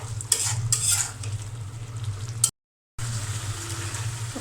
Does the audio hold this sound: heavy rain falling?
no